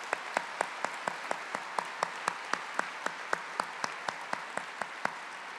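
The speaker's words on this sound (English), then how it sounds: "I would like to give them a big round of applause." Audience claps at an evening event honoring Eva Schloss, stepsister of Anne Frank; a sparse, steady rhythm of distinct individual claps, fairly quiet and evenly spaced, repeating throughout.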